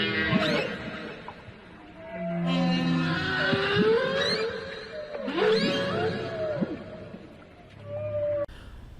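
Blue whale vocalization: a series of long, sweeping, moaning tonal calls that rise and fall, some overlapping, with a low rumbling undertone and no talking.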